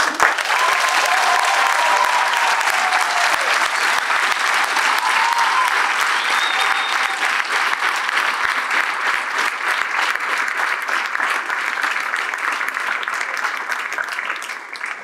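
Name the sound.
audience applause after a school play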